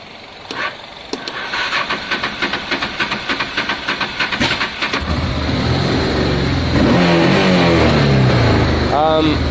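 A Honda Deauville motorcycle engine cranking on the starter after a carburettor clean, with a rapid rhythmic churning for several seconds before it catches and settles into a loud running idle with some revving, close up.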